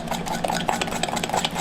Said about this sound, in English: The more you stir, the better it's going to taste